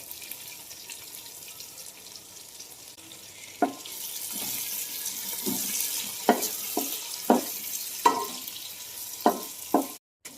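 Tomatoes and onions frying for a mackerel fish curry, a quiet start giving way to a loud sizzle broken by repeated sharp scraping stirs from a spoon in the pan.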